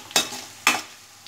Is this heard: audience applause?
no